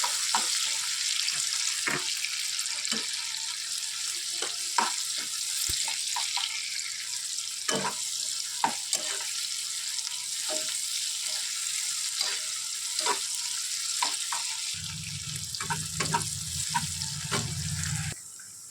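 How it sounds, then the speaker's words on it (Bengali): Chopped onions and green chillies frying in hot oil in a pan, a continuous soft sizzle broken by frequent sharp clicks of stirring against the pan, with a low hum near the end. "এবার এগুলোকে ভেজে নেবো যতক্ষণ না এর মধ্যে তেল বের হয়ে আসছে"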